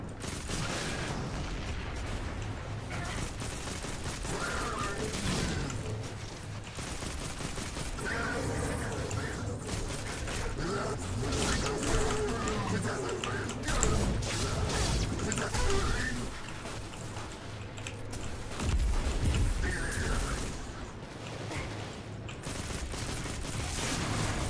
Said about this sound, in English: Cool guys walk away from explosions.